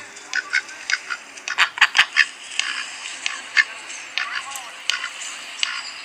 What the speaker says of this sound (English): Yes, this is the sound of ducks.